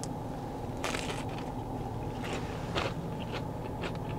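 Crunchy bites into a smaller, thinner piece of meat dipped in sauce at a Salt Lake, Oahu eatery, a few short crisp crunches over steady low restaurant hum.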